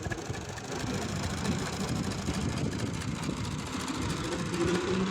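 Tractor engine running on a farm plot, a continuous low rumbling drone with steady knocking texture, fairly close and unbroken throughout.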